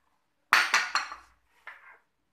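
Chopped onion and dried shrimp tipped into a bowl while mixing batter for crispy dried-shrimp fritters (cucur udang), giving three quick sharp clattering knocks followed by a softer single clink, close and fairly loud.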